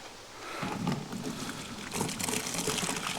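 Water from a one-gallon boiling test pot is poured out, a continuous splashing, gurgling pour close by that swells over a few seconds with no talk.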